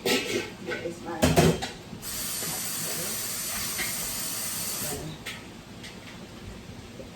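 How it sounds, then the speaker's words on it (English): A pot of vegetables simmers with a steady steamy hiss, broken by a few clattering knocks near the start and again later. "So I let it go ahead and simmer for a little."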